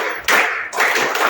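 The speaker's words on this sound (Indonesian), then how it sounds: "Yuk, tepuk 1, 2, 3." A classroom group claps to a count, a few loud, close bursts of many hands striking together in uneven rhythm.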